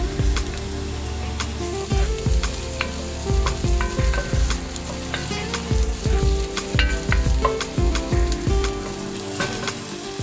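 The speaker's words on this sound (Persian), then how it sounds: "خب پیازمون رو باید سرخ بکنیم." Onions fry in a pan for chicken biryani, a steady sizzle broken by repeated scraping and clacking as a utensil stirs them, close and without talk.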